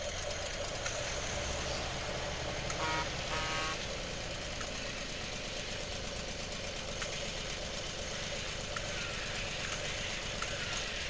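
A dumper truck engine idles with a steady, rough, knocking rumble that holds throughout at a fairly constant level, with faint intermittent beeps and clatter in the background.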